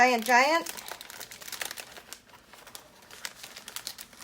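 Plastic stencils crinkle and crumple as they are folded and stuffed into storage, a close, irregular rustling that follows a brief high-pitched voice at the start.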